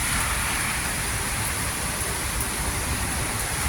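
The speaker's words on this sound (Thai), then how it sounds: "บอกกล่าวเล่าแจ้งว่าฝนตก" Steady, dense rain hiss fills the whole stretch, a constant broadband wash with no voices, close and fairly loud.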